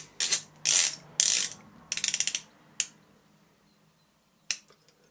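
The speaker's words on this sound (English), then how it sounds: "The bezel insert feels a little bit loose itself, but the action is very good." A vintage reissue dive watch bezel is turned by hand and clicks in several quick ratcheting bursts close up, followed by a couple of isolated single clicks with quiet gaps between.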